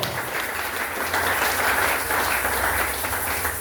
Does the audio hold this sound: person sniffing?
no